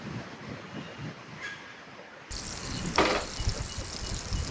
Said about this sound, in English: Hear that butter starting to bubble up there.